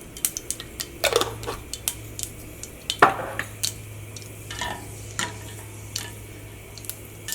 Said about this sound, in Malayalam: ഫസ്റ്റ് കടുക് പൊട്ടിക്കുക, ഒരു നുള്ള ഉലുവ ചേർക്കുക